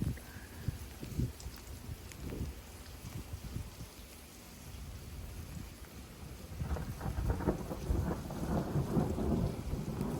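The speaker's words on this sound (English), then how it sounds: "that's an anvil crawler" Thunder from anvil crawler lightning in a severe thunderstorm rumbles low and distant under steady rain, building louder toward the end.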